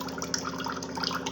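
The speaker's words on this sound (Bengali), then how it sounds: "লোটে দেখবে ফিল্টার থেকে কেমন হালকা জল পড়ছে না" Water trickles gently and steadily from a household water filter in a kitchen, a soft continuous splashing and dripping with small bubbly spatters, close and fairly quiet.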